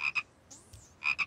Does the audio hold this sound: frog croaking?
yes